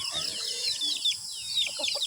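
Several chickens cluck and chatter close by in a steady, overlapping stream of short, high calls, with faint background noise.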